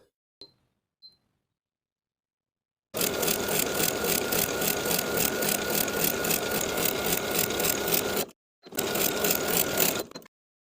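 A sewing machine running a zigzag stitch, width 3 and length 2, topstitching beside a narrow 1/8 inch seam allowance on knit fabric: a steady rapid mechanical whir for about five seconds, a short pause, then a second brief run.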